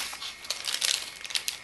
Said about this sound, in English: Second plastic bag